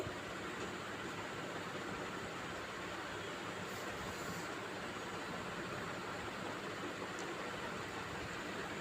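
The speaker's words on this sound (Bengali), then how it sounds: "তেলটা গরম হয়ে আসলে দিয়ে দিলাম এক কাপ পেঁয়াজ কুচি এখন এই পেঁয়াজটাকে আমি একটু কালার করে ভেজে নিব" A cup of chopped onions frying in hot oil for halim, a dense, even hiss of sizzling that holds steady and fairly quiet throughout.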